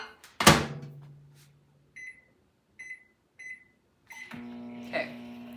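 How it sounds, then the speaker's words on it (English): A microwave oven melting butter: a door clunk, three short electronic beeps, then the oven's steady hum as it starts running. "Microwave cooking or what?"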